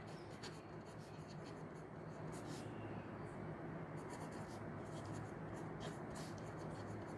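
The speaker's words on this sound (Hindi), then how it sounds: "हिंदी में भी लिख रही हूं मैं।" Steady scratchy strokes of writing on a board during a Class 12 maths lecture on determinants, soft and continuous under a constant room hiss, with short bursts of marker or chalk strokes and no talking.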